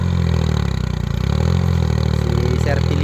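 A tractor tills soil on a small farm, its engine droning steadily and loudly throughout while a person talks over it.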